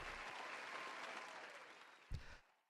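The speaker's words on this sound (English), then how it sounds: "We got to give a big round of applause for Monokuma" A round of applause from a small crowd, a dense steady clatter of clapping that holds briefly, then gives a final burst and fades out quickly.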